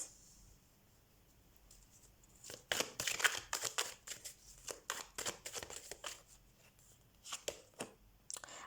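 Tarot cards being shuffled and drawn, crisp papery slaps and flicks arriving in quick uneven bursts after a quiet opening, close and fairly soft with no talking.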